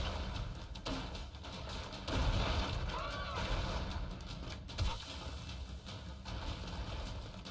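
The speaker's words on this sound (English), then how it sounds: "Oh, he has a grenade launcher." A grenade launcher fires in the video game Broforce, giving dull booming thumps and bursts over a dense, continuous wash of game noise, with a voice talking throughout.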